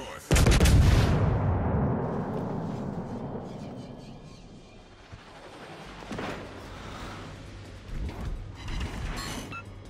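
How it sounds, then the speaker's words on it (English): A warship's artillery salvo in a naval video game opens with a loud, booming blast that rolls off into a long rumbling decay. Several fainter distant impacts and thuds follow. "That's the most insane salvo I've ever had."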